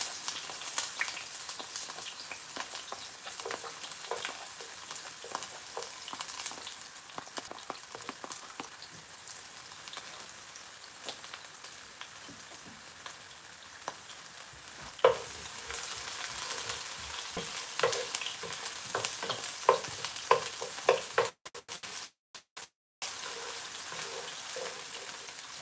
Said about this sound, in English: I'm gonna let the onions fry for about like a minute